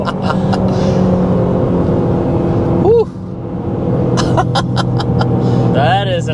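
A 2025 Aston Martin DBX 707 accelerates hard, a loud, sustained engine roar from inside the cabin with a brief dip at a gear change and rising pitch, while people talk and exclaim over it.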